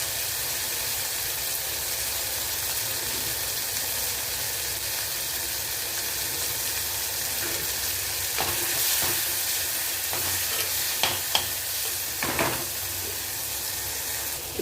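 Tomatoes being stir-fried in a pan for a bitter gourd kuzhambu, giving a steady sizzle with scraping stir strokes near the end, close and moderately loud, without any talk.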